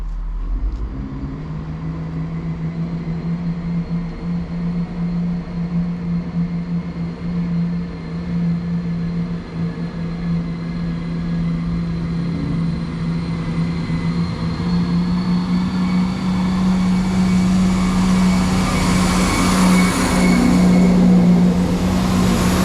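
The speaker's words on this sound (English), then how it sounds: "departing now is the 1854 cross-country service to Birmingham New Street from Cambridge" A CrossCountry diesel passenger train pulls out of a station bound for Birmingham New Street, its engine drone steady and low and swelling louder as it builds speed over about twenty seconds, with no talking.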